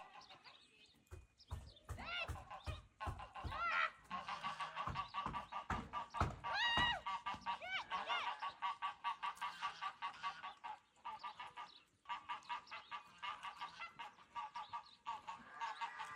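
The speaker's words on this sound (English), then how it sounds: "I don't really know what the point of kicking the geese was for, since they didn't seem like a threat at all." Geese on a farm honk repeatedly and loudly, a run of sharp calls that turns into a busy, overlapping chorus of nearby birds.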